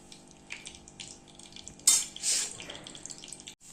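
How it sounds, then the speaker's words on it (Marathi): Edible gum (dink) frying in hot ghee over a low flame for methi ladoo gives off a faint, steady sizzle with scattered crackles and a couple of louder bursts. No one speaks. "तूप जरा गरम झालं की डिंक तळून घेऊया"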